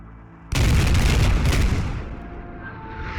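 An A-10 air strike explodes in the military shooter game Squad, a sudden loud, deep blast with rumbling impacts that rolls on and slowly fades, with no voices.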